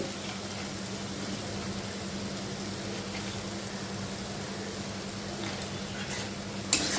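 Salted food being sautéed in a pan gives a steady, soft, even sizzle that runs unbroken throughout with a low hum underneath, and no one speaks.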